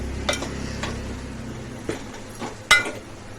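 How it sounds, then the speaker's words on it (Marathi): Masala for a stuffed brinjal curry being stir-fried in a pan: a quiet low sizzle broken by several light scrapes and one sharper clink of a spoon against the pan, close up with no speech. "तो पण चांगला मिनिटभर परतून घेऊया"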